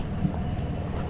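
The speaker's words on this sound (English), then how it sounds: "Our other boat is leaving right now." A fishing boat off the coast of Colombia pulling away on open water, a low steady engine drone mixed with wind and water rush, moderately loud and continuous without speech.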